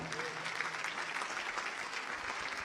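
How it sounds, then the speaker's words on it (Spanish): A church congregation applauds for the Lord during a Spanish-language sermon, a steady dense clapping throughout with a faint voice briefly underneath at the start. "¿Cuánto le damos un aplauso al Señor?"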